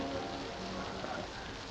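Steady rain hisses in the background, a constant wash of noise with no clear talk over it.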